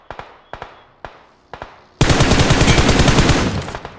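Gunfire in PUBG on Erangel or Miramar starts as four evenly spaced single shots. A dense, loud automatic burst follows, sustained to the end, close and with no talk.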